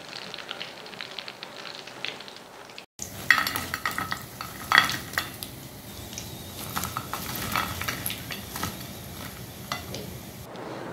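Bite-sized tandoori rolls with tandoori masala frying in a pan: a continuous crackling sizzle with repeated scraping, stirring strokes and small clatters, briefly cut off early on, then resuming up close with no talking.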